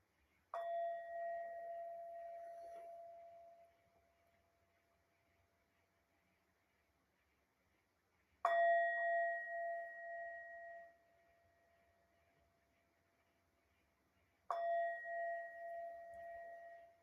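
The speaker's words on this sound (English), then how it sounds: "I'm gonna ring the bell" A meditation bell struck three times to close a session, each strike a clear ringing tone decaying over a few seconds, with the second and third strikes closer together than the first two; quiet room otherwise.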